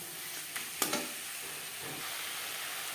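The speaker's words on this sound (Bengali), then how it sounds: "মিক্স করে দেবো" Ginger and green chilli paste with salt is stirred in a pan for a bele fish curry: an even hissing sizzle runs throughout, with a couple of sharp spoon knocks near the start and no speech.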